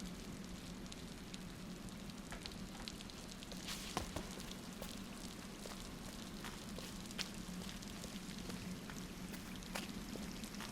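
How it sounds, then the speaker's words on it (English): Water dripping or rain leaking from above in the dark video game Scanner Sombre, a soft steady patter with scattered sharper drops over a low constant hiss. "There's probably some water just leaking from the top"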